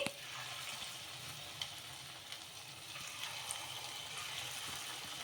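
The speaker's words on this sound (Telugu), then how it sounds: "ఇంకా ఇలా అన్నీ కూడాను సేమ్ బోండాలు ఇదే విధంగా ఫ్రై చేసేసుకొని తీసేసుకోవడమే" Sabudana bondas deep-fry in hot oil on medium heat, giving a steady, soft bubbling sizzle with a few light pops and clicks throughout.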